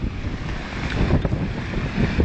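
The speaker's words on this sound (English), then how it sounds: "it's a windy day." Steady wind blows by a clear garden pond with a waterfall, a loud, continuous rushing roar with gusty buffeting against the microphone.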